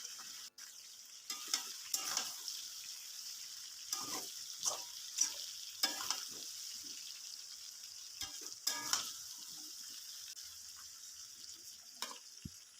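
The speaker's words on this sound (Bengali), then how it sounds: "কাঁচা লঙ্কাগুলো সমস্ত দিয়ে দিলাম দিয়ে এইভাবে নেড়ে চেড়ে নিচ্ছি" Fresh green chillies stirred in a pan over a medium flame, with a steady sizzling hiss and intermittent scraping strokes of the spatula, close and fairly quiet, no talking.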